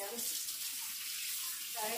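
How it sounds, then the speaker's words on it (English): Tap water pours steadily in a continuous hiss, close by, with a brief bit of splashing as hands are rinsed under it. "Let me wash my hands."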